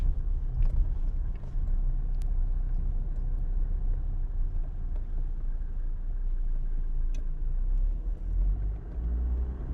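An old Mercedes 190D 2.5 diesel engine hums in a steady low rumble from inside the cabin as it drives along, with faint road noise and no talking.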